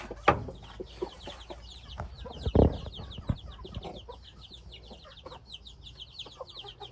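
Many chickens clucking and chattering together nearby, a busy continuous flock sound with a few sharp knocks and rustles.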